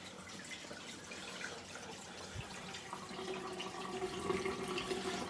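Water rushing and gurgling steadily through a hose while a central heating system is flushed during a combi boiler swap, a continuous watery wash that builds slightly toward the end with no talk.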